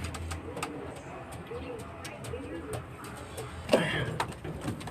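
Pigeons coo softly in a loft, low repeated calls under people talking, with a sharper knock or flutter near the end.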